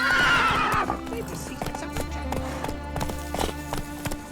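A horse in The Witcher 3 lets out a loud whinny, then gallops with a steady, rapid clip-clop of hooves under game sounds and a voice.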